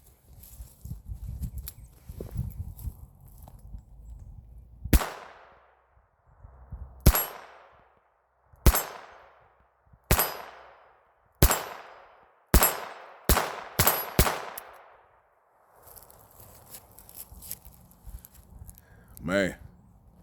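Taurus Model 94 Ultra-Lite Nine .22LR revolver firing nine sharp, loud shots at an uneven pace, some spaced seconds apart and others in quick succession, with talk and handling noise before and after.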